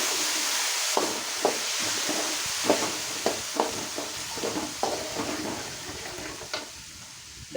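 Tamarind juice is poured into a hot tempering of dried chilies, curry leaves and turmeric for puliyogare gojju, giving a steady close sizzle broken by sharp crackling pops, with no talking.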